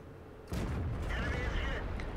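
A tank gun fires once in World of Tanks, a sudden booming report followed by a sustained rumbling roar, heard at moderate level with game background noise and no talk.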